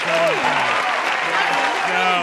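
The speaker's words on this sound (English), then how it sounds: "Do you hear our studio audience clapping for you?" Studio audience clapping during a television show, steady applause running under a talking voice throughout the short stretch.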